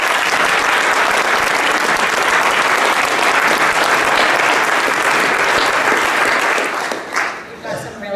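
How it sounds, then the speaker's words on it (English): Sustained applause from a campus ambassador panel audience, dense and steady for about seven seconds before thinning into scattered claps at the end. "please join me in a round of applause for them."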